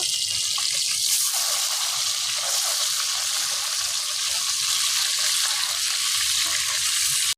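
Fish sizzling loudly in hot mustard oil as the pieces are flipped, a dense continuous hiss with a few soft stirring and turning knocks, close and unbroken.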